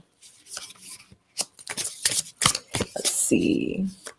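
Tarot cards are shuffled in quick riffling bursts and crisp snaps, close and fairly loud, alternating with short pauses and a soft rustle near the end.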